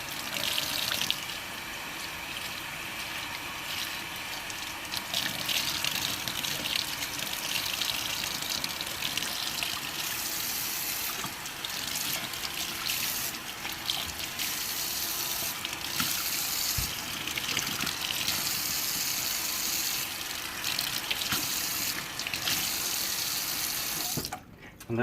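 Hot water gushes steadily from a tap over freshly cleaned bells in a sink, a loud continuous splashing rush lasting the whole stretch, cutting off abruptly at the very end.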